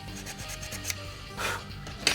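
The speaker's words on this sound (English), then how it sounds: "It might need a slight sanding." A part of a NERF Falconfire blaster is sanded by hand, producing quiet close rubbing strokes with a brief louder rasp near the middle and a sharp tap at the end.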